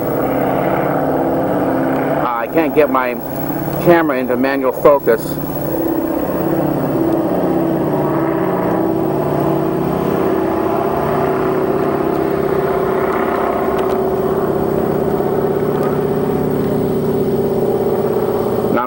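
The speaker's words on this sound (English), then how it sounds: "there's an airplane going circling it" An airplane circles overhead, a steady broad engine drone that runs the whole time at a moderate distance, with a person speaking briefly near the start over it.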